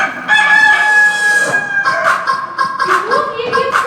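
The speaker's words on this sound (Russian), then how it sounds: "Петух явился боевой, за ним пришла наседка." A rooster gives one long, loud, harmonic crow close by, followed by softer voice-like calls and clucking sounds, as in a staged scene from the children's tale Koshkin Dom.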